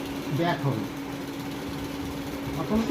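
An industrial sewing machine running on folded cloth gives a steady motor hum close by, with someone talking over it throughout.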